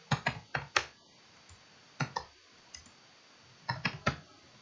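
Computer keyboard keys clicked while a pip install command for TensorFlow is typed into the Windows 10 command prompt. The clicks are close and crisp, coming in quick bursts of several keystrokes separated by short pauses.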